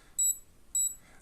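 Two short, high-pitched electronic beeps from a counterfeit Casio G-Shock watch button, evenly spaced about half a second apart, thin and close, with nothing else around them.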